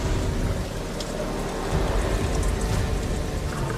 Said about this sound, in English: But there will be no shelter from this storm.